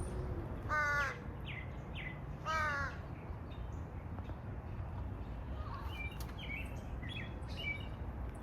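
Crows cawing outdoors in a garden yard, two loud harsh bursts of repeated caws early on, then fainter, more distant calls and small chirps over a steady outdoor background hum.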